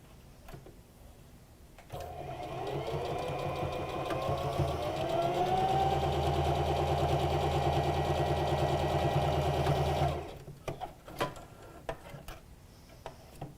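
A sewing machine stitches cloth mouth pieces for an Olson face mask, whirring in a steady, fast mechanical rhythm for about eight seconds after a quiet start, then stopping into a few scattered clicks and handling sounds.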